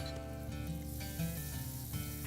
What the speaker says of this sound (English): That's exactly what we want to hear. A little sizzle.